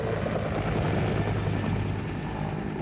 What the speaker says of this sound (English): Water-dropping helicopters and big fixed-wing aircraft loaded with fire retardant came in waves